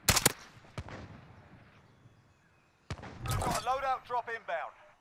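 Kilo 141 rifle shots in Warzone: one sharp crack right at the start and a couple of fainter single shots after it, then someone speaks over the quieter game sounds.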